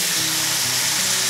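Soy sauce hits fish in a hot pan and sizzles loudly, a steady, close hiss of frying that continues without a break.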